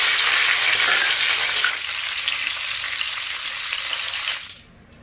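Shallots frying in hot oil for a sambal, a steady loud sizzle that eases slightly partway through and then drops off sharply near the end.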